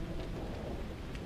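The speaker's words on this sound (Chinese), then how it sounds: "下这么大雨" Heavy rain pours in a dense, continuous hiss, with a low thunder rumble underneath; no voices.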